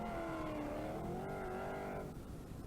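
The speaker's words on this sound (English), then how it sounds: "Norman Kittle now with the Talbot Sunbeam, followed by Robin Allingham, who has gearbox trouble." Rally car engines during a stage of the 1983 Ulster Rally, a Talbot Sunbeam among them, with a rising and falling engine note as a car passes fairly close and then fades.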